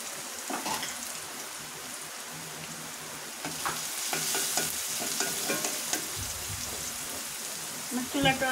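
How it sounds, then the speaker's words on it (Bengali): Chopped onions and garlic fry with dried chillies in a pan, a soft crackling sizzle with occasional stirring clatter, fairly close and moderate in level, with no talking over it. "আমার পেঁয়াজ ভাজা হয়ে গেছে"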